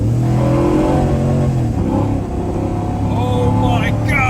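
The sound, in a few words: LS3-swapped vehicle engine revving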